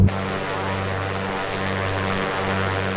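Piper Comanche 250 propeller engine in Microsoft Flight Simulator, a steady loud droning hum with a deep, constant pulse throughout and no talk.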